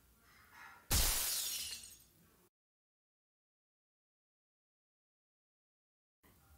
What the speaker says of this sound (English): the sound of the glass is shattering